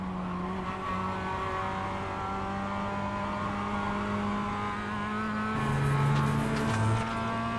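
Mazda MX-5 race car at Oulton Park, engine droning steadily as heard from inside the cockpit with pitch shifting as speed changes, then a brief tire squeal under hard braking near the end.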